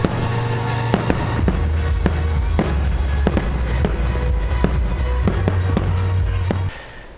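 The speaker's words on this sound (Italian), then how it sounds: "la serata si è conclusa con il botto," Fireworks bursting repeatedly, sharp booms and cracks spaced irregularly over a steady low rumble, fairly loud and continuous.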